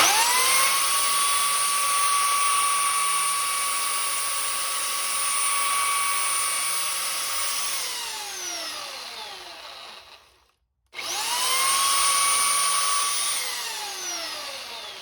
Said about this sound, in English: just bevel the edges a little bit so I can get some silicone around it